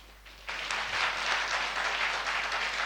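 A church congregation at a Sunday service bursts into applause, the clapping rising suddenly after a quiet moment and continuing as a steady, even wash of many hands, moderately distant.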